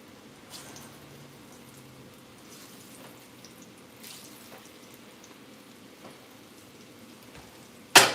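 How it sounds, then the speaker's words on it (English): Sweet plantains (maduros) sizzling in hot oil in a home kitchen, a steady soft crackle and hiss close by, with a sharp clatter at the very end. "we're going to grab our maduros and we're going to start frying them"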